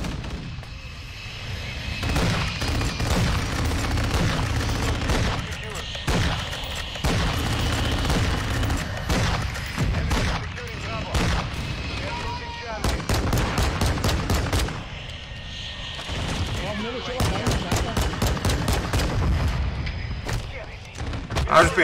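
Dense Call of Duty gunfire from shotgun-heavy multiplayer combat: rapid bursts of shots and booming blasts run almost continuously, with clustered volleys and short lulls, while voices talk over the fighting.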